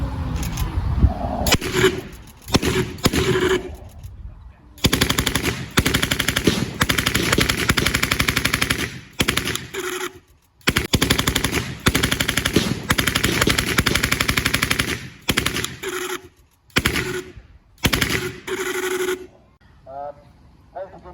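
A gas-operated WWII-era machine gun fires a series of loud, close short bursts lasting one to two seconds each, separated by brief silences, at an outdoor 1940s re-enactment weapon display.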